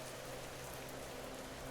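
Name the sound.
rain effects in video game Schedule 1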